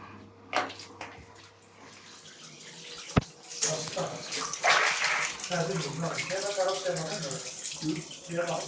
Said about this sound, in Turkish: Bakın içerisinden çıkan sarı zibilli su